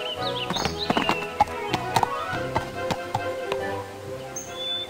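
Hooves clip-clop in an uneven rhythm of sharp knocks over a soft background, with faint chirps and a brief whinny-like tone, from the horse video game Barbie Riding Club.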